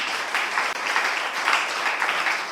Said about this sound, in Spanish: Vamos a dar palmas, Señor